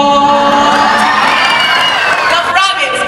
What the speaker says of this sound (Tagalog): bakit hindi po natin palakpakan at sigawan?